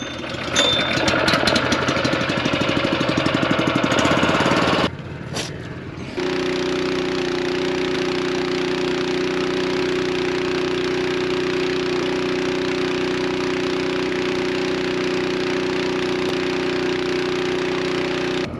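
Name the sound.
pull-start engine of a pump running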